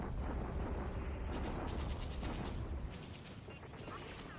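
Naval bombardment at Ambon in the War in the Pacific strategy game, a dense rumbling barrage of rolling explosions and gunfire that fills the clip loudly, then eases a little toward the end.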